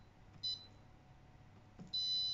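An air fryer's control panel gives two short electronic beeps as its buttons are pressed, the first brief, the second longer and sustained, crisp and close against a quiet room.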